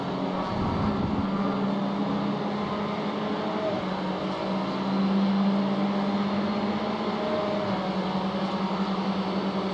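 A steady, droning GTE race car engine hum from a Le Mans 24-hour sim-racing game runs continuously at moderate volume, swelling briefly midway, with no voices.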